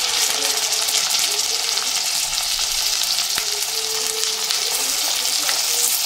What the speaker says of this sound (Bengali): এটা একটু লাল লাল করে ভাজা করব চিকেনগুলোকে।